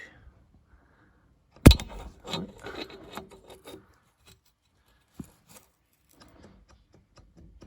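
Short bursts of metallic rattling and scraping as the turbocharger shaft of an Alfa Romeo Brera 1.75 TBi is shaken by hand to show its play, then scattered faint clicks amid near silence.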